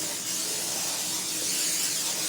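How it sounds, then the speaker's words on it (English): A steady, broad hiss of nonstick cooking spray sprayed into a baking pan runs continuously at close range, with no pauses and no talking. "So what I do is I use Pam or some nonstick spray, and you spray it first"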